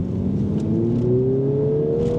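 A Mini John Cooper Works engine revs steadily upward under acceleration, a loud, close, continuous rising drone with a whine climbing in pitch, heard from inside the moving car without speech.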